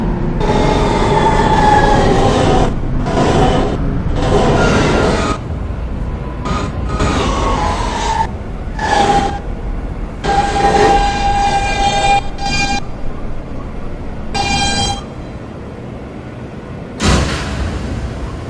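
A Manhattan-bound R express subway train roars and rumbles through a station, with metallic wheel squeals and brief tonal screeches, the sound breaking into bursts and lulls as cars pass close by.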